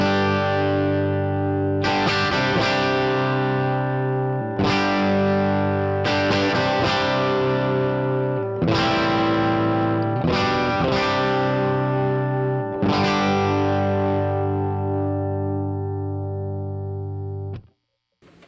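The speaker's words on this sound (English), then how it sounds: "I just really love the way the AC30 sounds, just with that kind of light to medium overdrive." Electric guitar through a Line 6 POD HD500x modelling an AC30 amp with light to medium overdrive, a series of loud strummed chords ringing out and decaying, struck about every two seconds, no voices.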